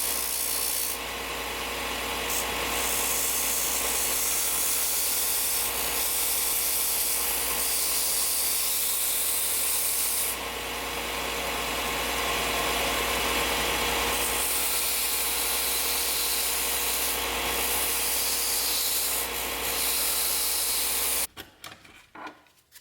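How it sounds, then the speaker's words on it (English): Steady abrasive rubbing of sandpaper against a foam rat lure body, shaping its edges into cones at each end; continuous close-up rasping with brief pauses in intensity, ending abruptly in a few scattered handling knocks. "sand down these edges and make them more cone shaped on either end."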